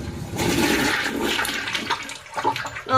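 A toilet with a leak at its base flushing, a close gushing rush of water swirling down and draining away, loud at first and trailing off over a few seconds.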